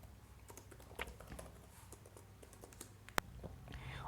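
Soft, quick keystrokes on a computer keyboard while Python code is typed, an irregular patter of light clicks close by with one sharper key strike near the end.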